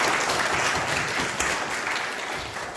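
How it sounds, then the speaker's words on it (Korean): A church congregation claps together in warm, continuous applause during a worship service, a steady roomful of hands without any voices over it. "하나님께 영광의 박수 드립니다."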